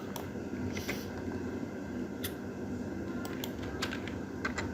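Hex bytes typed on a computer keyboard during a digital forensics task, quiet scattered keystroke clicks over a steady low hum, close but soft, with no speech.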